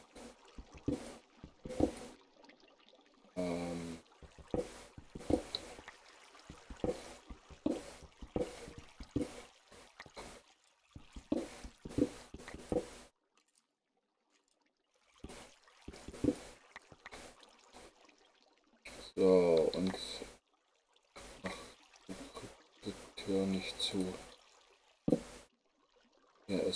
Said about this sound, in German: Ja, okay, hier ist eine Wasserquelle.